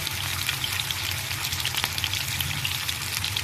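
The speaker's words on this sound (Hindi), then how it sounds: "अब हम फिश का एक एक पीस जो है ना इस पैन पे रखेंगे" Pieces of fish sizzle steadily in hot oil on a grill pan, a dense continuous crackle with small pops over a faint low hum.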